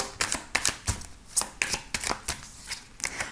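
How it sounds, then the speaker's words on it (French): Tarot cards laid down one after another on a table, a quick series of close, crisp paper slaps and soft flicks in an irregular rhythm. "on va poser les autres cartes"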